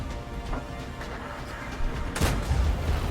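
Cannon shot from a British Churchill I heavy tank in a tank combat video game, a sudden loud boom-crash past the midpoint of a rumbling engine bed, no talk.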